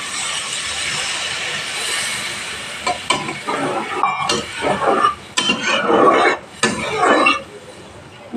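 Katla fish curry gravy bubbling in a pan, a dense steady simmering hiss and sputter with irregular louder bursts of popping, heard close up without talk.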